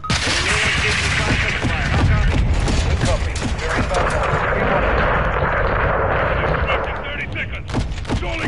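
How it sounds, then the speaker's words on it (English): Heavy gunfire and a booming missile explosion in a PS4 military shooter, dense continuous blasts and rumble filling the scene, with a voice speaking over the combat. "Incoming missile."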